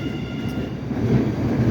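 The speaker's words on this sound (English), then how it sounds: "That train literally just, like, they're back to back." An MBTA Orange Line subway train passes at Roxbury Crossing with a steady, loud rumble of wheels on rail and a faint high whine, continuous throughout and with no voices.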